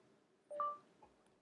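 Phone voice assistant activation chime, a single short two-tone beep, faint and clean against near silence.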